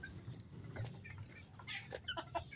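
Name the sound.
chickens clucking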